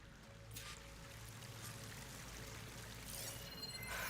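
Waterfall in the video game Horizon Zero Dawn 2, a faint, steady rushing pour of water continuing throughout without voices.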